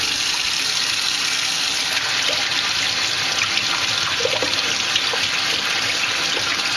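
Cold tap water runs steadily into a sink while crappie fillets are rinsed, a continuous, close, even rush of flowing water with no talking.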